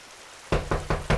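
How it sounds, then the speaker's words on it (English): Four firm knocks on a door at Wayne Manor during a live comedy reading, evenly spaced, close and loud after a moment of quiet. "Elmer knocks on the door to Wayne Manor"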